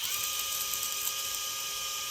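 An electric drill spins a grit reamer inside a fishing rod grip on a custom spinning rod build, giving a steady high-pitched whine that runs continuously and alone.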